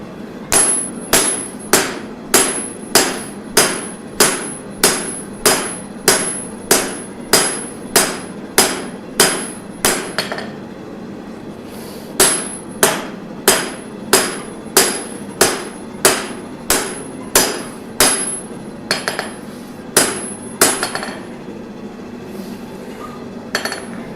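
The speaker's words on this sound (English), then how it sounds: "You gotta forge in those bevels." A hammer forges bevels into a large knife blade on an anvil, ringing metallic blows in two fast, even runs of about twenty strikes each with a short pause between, loud and close, no talk.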